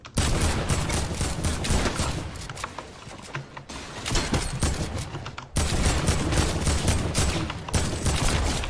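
Rapid, dense shotgun blasts from a pump shotgun in the video game Fortnite, Season 9, ring out loud and close in near-continuous bursts with brief gaps, with no talking over them.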